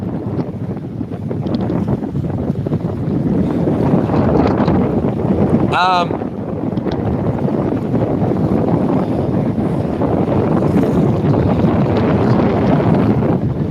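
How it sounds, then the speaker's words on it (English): Strong wind roaring over a microphone on a boat fishing on choppy ocean water, a loud steady buffeting rush throughout with a brief sharp whistling squeal near the middle. "Here comes the wind."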